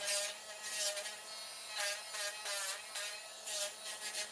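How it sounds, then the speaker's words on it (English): A Dremel rotary filing tool grinds down a dog's nails during grooming, giving a close, steady high-pitched whir broken into short bursts as it touches each nail. "I really like this Dremel, so this filing tool"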